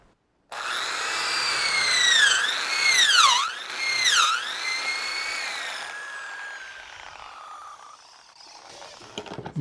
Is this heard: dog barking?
no